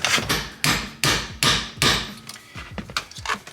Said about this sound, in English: Jude, give me a fucking hammer